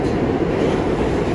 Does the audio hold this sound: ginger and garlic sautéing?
no